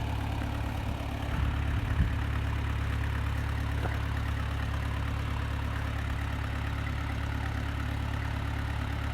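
A tractor engine idles steadily at a barn while manure is loaded and unloaded with a trailer, a low continuous rumble close by, with a couple of brief knocks early on.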